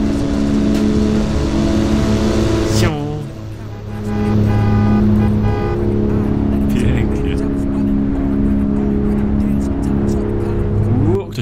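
A car engine accelerating in Forza Horizon 5, with a loud sustained high drone that dips briefly as the gear shifts and then climbs and holds at full throttle.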